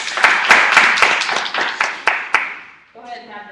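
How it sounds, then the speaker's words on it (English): A group claps at a Herbalife University gathering, a run of sharp, fairly close hand claps that thins out and stops, followed by a voice speaking. "Clap it up for yourself"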